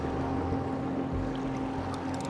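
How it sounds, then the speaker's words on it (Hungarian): Large boats move across the water near a carp-fishing spot after the rain, giving a steady low engine drone and hum that stays loud and even throughout. "Nagy hajók is megindultak"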